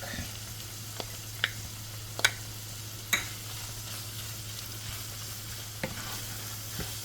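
Garlic frying in a pot for one-pot spaghetti and mince beef, a faint, steady low sizzle with a few sharp clicks and taps of a utensil stirring against the pot.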